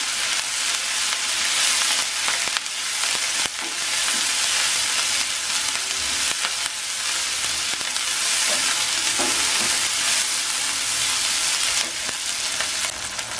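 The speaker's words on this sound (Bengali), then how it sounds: "খুব ভালো করে কষিয়ে নেব চুলার আস্তাকে মিডিয়াম রেখেছি আমি" Spices sizzle and hiss as they are stir-fried over medium heat in a pan for fish masala, a loud, continuous frying crackle broken by repeated scrapes and knocks of a stirring spoon, with no talking.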